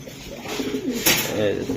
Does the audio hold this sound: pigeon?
yes